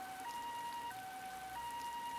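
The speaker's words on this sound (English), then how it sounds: "Cars and ambulances pass me by on these empty streets." An ambulance siren in a quiet-street scene from an RPG Maker game, An Ethurian Tale: Fallen Star, sounding a steady two-tone wail that alternates pitch a few times, continuous and fairly prominent.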